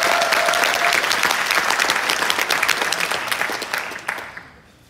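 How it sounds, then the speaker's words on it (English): A large audience applauds at a summit event for Kobe Bryant and Justin Sun, a dense, sustained roar of clapping close and loud that gradually fades away over the last second. "Can we have a round of applause for them?"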